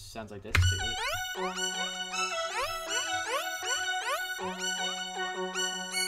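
An ElectraX synth preset plays a bright, bell-like plucked melody with gliding pitch sweeps over a low sustained bass note, steady and prominent, after a brief percussive hit at the start.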